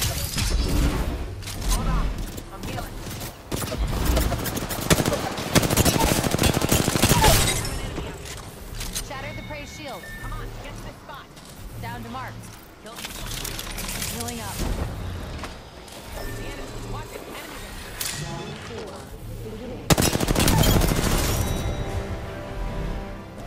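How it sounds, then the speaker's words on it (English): Enemy squad gunfire in Apex Legends ranked play, heard as heavy bursts of shots and impact crashes that rise and fall under frequent in-game voice lines and talk. "Squad shooting at us."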